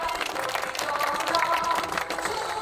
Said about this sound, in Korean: 인사를 하시면 옆에 분들이 힘찬 박수로 환영해 주시기 바랍니다